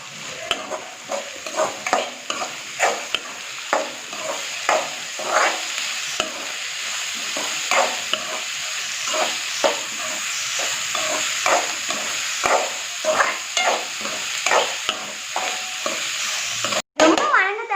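Onion, green chilli and curry leaves sautéing for a crispy ragi dosa, a steady sizzle broken by repeated scraping stirs of the spatula at a regular rhythm, close and clear with no talk.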